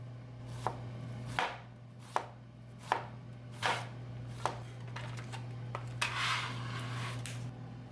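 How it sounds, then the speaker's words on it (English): A knife dices an onion on a cutting board in a home kitchen, giving a series of crisp, evenly spaced chops close up over a steady low hum, with a brief rustle near the end. "Medium dice an onion."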